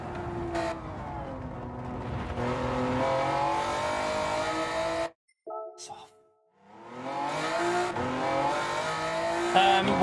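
Honda NSX engine in Gran Turismo 7 on the Nordschleife, a loud rising and falling rev through the gears that cuts out briefly near the middle, then climbs again, with some tire noise.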